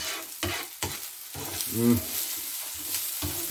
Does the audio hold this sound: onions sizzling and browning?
yes